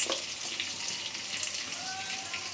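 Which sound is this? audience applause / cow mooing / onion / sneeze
onion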